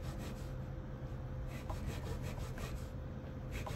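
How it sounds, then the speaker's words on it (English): A file rasps back and forth across wood in steady repeated strokes, close up, with no talking, during restoration of a 1953 Gibson L-50 guitar. "you can tell by the way that the file feels"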